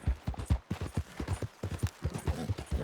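A horse's hooves clip-clop in a steady, brisk rhythm of distinct close thumps in Red Dead Redemption 2, with no talk over them.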